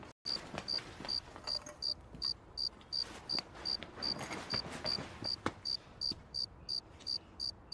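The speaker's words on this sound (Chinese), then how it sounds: "他也应该把那个蛐蛐给收回屋啊" A pet cricket kept indoors in a Chinese period TV drama chirps in a steady, evenly spaced series of short, shrill pulses, close and clear over a faint room hiss, with no talking.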